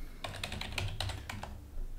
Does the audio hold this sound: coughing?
no